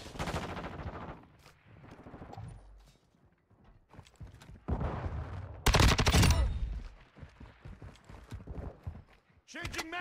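Bursts of automatic gunfire in the multiplayer shooter Modern Warfare 2, loud and close at times, mixed with radio callouts and voices over busy battlefield noise.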